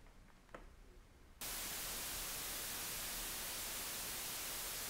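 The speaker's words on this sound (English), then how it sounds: "It sounds like a very nice, clean, white noise, and that's exactly what it is." After a quiet low hum, a loud, steady broadband hiss of digitally generated white noise from random sample values abruptly begins and continues evenly to the end.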